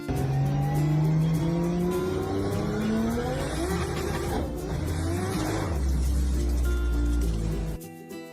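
A car engine revs hard, its pitch climbing and sliding through strained, wavering tones. It then drops into a low, rough drone and cuts out abruptly near the end. The sound is loud and close, with no voices.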